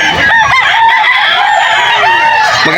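A bullstag rooster at a pet market crows loudly and close, one sustained drawn-out call filling the moment over faint market background.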